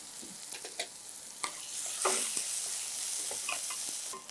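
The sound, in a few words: onions frying in a pan for spinach rice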